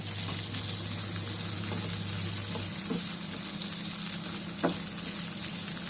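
Steady, close sizzle of frying for a restaurant-style chicken makhni handi, with a few faint stirring clicks and no talk over it.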